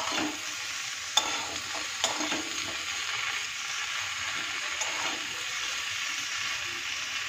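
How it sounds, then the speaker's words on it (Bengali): Vegetables with a little turmeric frying in a pan, a steady close sizzle under repeated stirring with a few sharp utensil taps. "সব কিছু দিয়ে নেড়ে চেড়ে নেব। এটা একটু ভাজা ভাজা হোক।"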